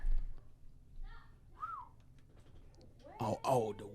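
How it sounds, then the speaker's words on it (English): A short rising-and-falling whistle sounds once, followed by a voice speaking close by over quiet background. "Oh, the whistle."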